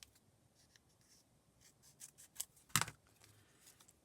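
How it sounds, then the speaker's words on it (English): Scissors snip through paper for a junk journal, with a few light cuts building to one sharp, close snip near the end, quiet and alone with no talking. "I'm just going to cut this in half."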